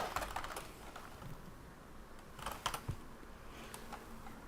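Typing on a US-layout computer keyboard at a workbench, a quiet run of irregular key clicks with a few louder clustered taps over a low background hum.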